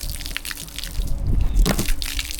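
Water runs from a tap at a motorhome service point, gushing and splashing in uneven bursts with a close, loud, sloshing texture.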